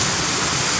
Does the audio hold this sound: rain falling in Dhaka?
yes